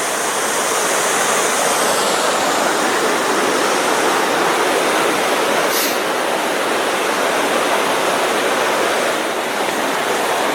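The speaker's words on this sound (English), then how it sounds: "And the creek." Steady, loud rushing of a flowing creek, a continuous broadband wash of water with no voices.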